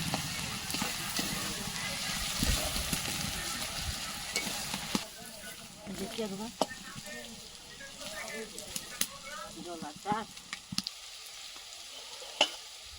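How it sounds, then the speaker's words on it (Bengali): Bay leaves stirred into fried onions in a pan for village-style meat curry: a soft sizzle with intermittent scraping and clacking stirs, fuller at first and then sparser, with a voice present at times. "এর মধ্যে আবার তেজপাতা দিয়ে দেবে ওখানে টমেটো কাটা আছে তেজপাতা দিয়ে একটু নেড়ে নেবে"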